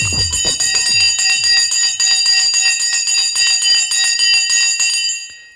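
A bright bell rung during a live stock-market stream, struck in a fast ringing series of repeated metallic strikes with a sustained tonal shimmer that holds steadily, then cuts off and decays at the end.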